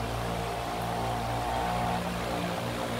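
An Asahi electric fan runs at its top 145-watt speed setting, giving a steady, loud, close whir of motor hum and rushing air with no other sounds.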